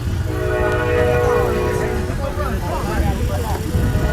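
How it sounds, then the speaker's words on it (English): A train rolls past near a girls' high school softball field, with a long, steady horn blast that sounds over the rumble of the passing cars, and a voice can be heard faintly alongside. "I love the sound of trains."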